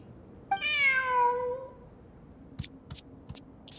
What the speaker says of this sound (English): Who's a good kitty?